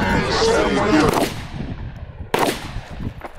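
Glock 45 MOS pistol fired at a target outdoors, two loud close shots about a second apart with ringing decay, over background music and voices.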